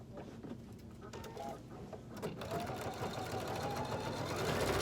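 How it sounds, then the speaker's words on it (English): A sewing machine stitches along the bottom edge of a color-blocked cork handbag, a steady, close mechanical whirring that builds slightly in loudness as it keeps running. "And I can stitch right along the bottom."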